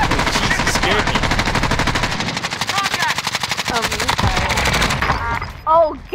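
Rapid automatic gunfire rattles in Call of Duty Warzone, dense bursts of shots with a short pause midway, while excited players shout over the shooting.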